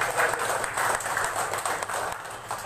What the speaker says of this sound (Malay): Beri tepukan kepada rakan kita yang ada di sebelah